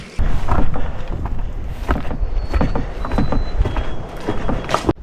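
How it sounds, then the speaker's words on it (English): Wind gusting across a lakeside campsite in Temagami during a stretch of stormy weather, a steady broadband rush with louder buffeting near the end, heard alone without speech. "Well, the wind's picking up"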